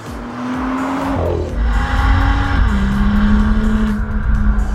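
A BMW M2 Coupé engine roars up through the revs close by, with a deep, spectacular tone and distinct gear-change dips as it accelerates hard.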